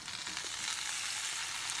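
Oil heats in a cast iron pan, giving a continuous, even sizzle with fine crackling. The sound is soft to moderate and steady throughout, with no talking over it.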